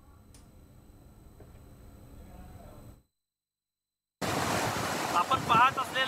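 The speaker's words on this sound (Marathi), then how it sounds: "पांढरा शुभ्र जे पाणी जे आहे ते या दुसऱ्या त्या दरवाजातून खाली सोडण्यात आलेलं आहे" Water released through the gates of Kanher dam in Satara rushes out. A quiet windy stretch and a short silence give way to a loud, steady roar of gushing water.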